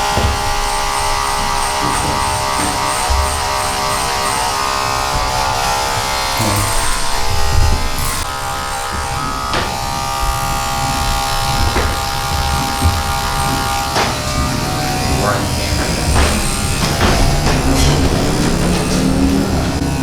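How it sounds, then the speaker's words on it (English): Electric hair clippers buzz steadily, worked clipper over comb while cutting a mid skin fade, loud and close. The motor hum runs continuously with small scraping shifts as the comb and blades move through the hair, with no talk. "Once I get halfway, I'm gonna start clipper over combing"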